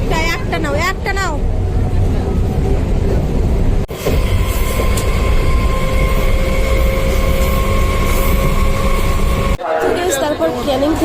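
A passenger train rolls along the Canning line near Kolkata with a steady, loud onboard rumble and clatter. Sustained tonal whines run beneath it, and people talk over the noise at the start and near the end.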